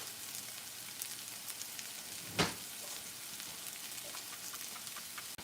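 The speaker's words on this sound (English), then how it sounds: "we got the broccoli cooking, we got the veggies going" Broccoli and mixed vegetables frying in a pan, a steady close crackling sizzle with a single louder burst partway through, no talk over it.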